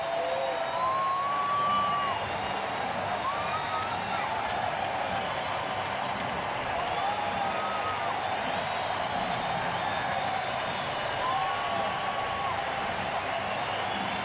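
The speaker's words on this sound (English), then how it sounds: "His teammates are cheering, and just about everyone here tonight is standing for Manny Pena" Baseball crowd at a Baltimore at Kansas City night game cheering and standing for a batter's double, a steady broad roar of noise, with a stadium announcer speaking over it throughout.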